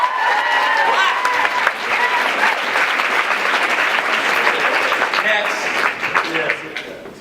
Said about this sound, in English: All right, another hand applause for Jason,